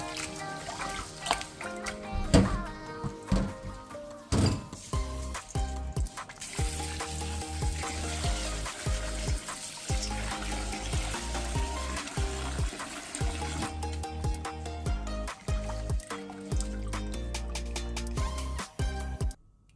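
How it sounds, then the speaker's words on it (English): Guinea corn (sorghum) grains are swished and rubbed by hand in water, giving a steady wet sloshing and trickling with occasional louder splashes, close up and without talk. "I'm going to gently wash the Guinea corn to remove any dirty"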